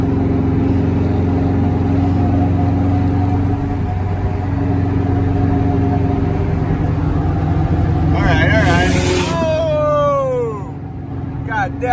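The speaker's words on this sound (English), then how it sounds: "I love the sound of an external wastegate on the Subi." A Subaru with an external wastegate cruises at night among other cars. A continuous engine drone runs throughout, and near the end a sharp whooshing hiss and flutter rises and falls, with voices talking over it.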